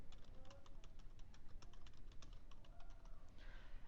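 Rapid keystrokes on a computer keyboard while renaming a spreadsheet tab, a steady run of close, crisp clicks with no talking over them.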